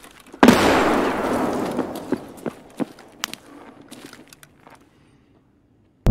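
Grenade blast in the game Escape From Tarkov: one sudden close boom with a long decaying rumble, followed by scattered sharp debris clicks and footstep-like knocks that fade to near silence.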